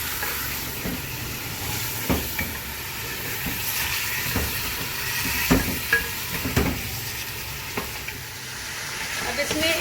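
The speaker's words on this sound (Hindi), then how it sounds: "और मैं इसको फिर 2 मिनट इसके अंदर भूनूंगी लहसुन अदरक के अंदर" Beef fries in garlic ginger paste for nihari, giving a steady, close sizzle throughout with scattered scrapes and taps of a stirring spoon against the pot.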